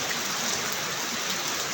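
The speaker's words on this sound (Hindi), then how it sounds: "इन गलियों में इतनी ज़्यादा बारिश हो रही है ना" Heavy rain pours down on the narrow streets of Dineshpur, a dense, steady roar of water with no break. It is loud and close, with no voices.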